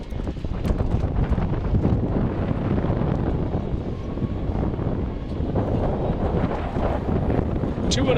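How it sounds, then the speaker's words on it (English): A strong wind at an outdoor softball game buffets the microphone in a constant, rough, blustery roar, with faint background sounds beneath it. "So the wind continues to rip through the back."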